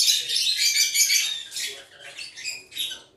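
Caged African lovebirds chirp and squawk in a rapid, shrill, continuous chatter, close by, with a few brief pauses between bursts and no voices.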